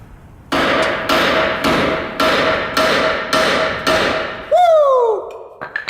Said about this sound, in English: Beat on the side of the knuckle, the steering arm.